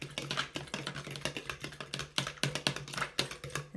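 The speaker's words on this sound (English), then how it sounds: "then you whisk together the two ingredients" An egg whisked briskly in a bowl for scone mixture, a quick run of light, sharp clicking taps in an uneven rhythm, close and fairly quiet.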